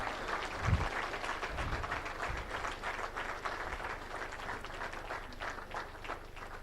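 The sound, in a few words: applause for colleagues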